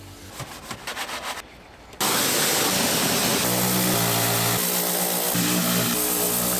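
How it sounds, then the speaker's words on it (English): Pressure washer turbo nozzle blasting water into the wheel arches of a 5-litre Lexus, a loud, close, continuous hissing roar that bursts in after a couple of seconds of quieter mechanical noise and holds steady with slight shifts in pitch. "Very careful with these turbo nozzles when you're doing the arches near paint."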